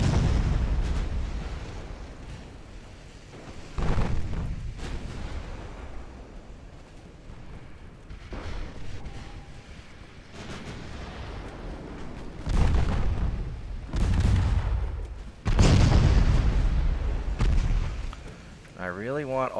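Heavy naval guns boom repeatedly in Ultimate Admiral Dreadnoughts, a game battle with 9-inch guns firing armor-piercing shells; several deep, loud blasts arrive in clusters over a continuous rumbling battle ambience.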